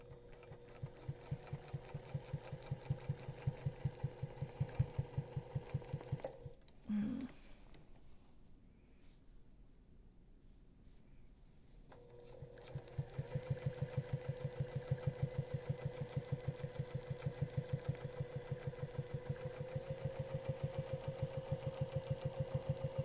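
A sewing machine stitches during quilting ruler work, running with a steady close mechanical whir. It stops for about six seconds midway, then starts again and runs on at the same pace.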